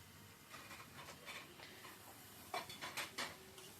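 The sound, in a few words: chicken with spices being stirred and sautéed in pot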